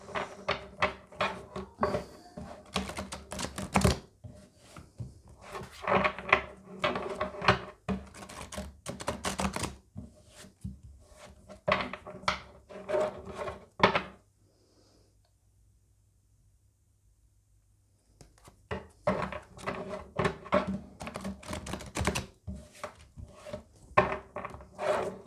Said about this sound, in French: je brasse et on prend 5 cartes pour vous